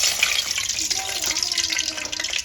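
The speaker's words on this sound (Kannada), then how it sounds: "ಇದಕ್ಕೆ ಕಾಯಿಸಿ ಹಾರಿಸಿರೋ ಅಂತ ಹಾಲು ಹಾಕ್ತಾ ಇದ್ದೀನಿ." Boiled milk poured into a pan of hot ghee while making almond ladoo, a steady broad sizzle and liquid pour running continuously at close range, with faint tonal streaks through it.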